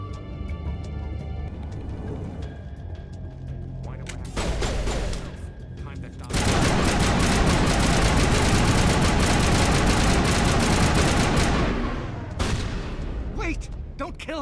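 Video game shootout with sustained bursts of automatic gunfire, loud and dense, rising into a long continuous barrage after a brief lull, a few voices and effects around it.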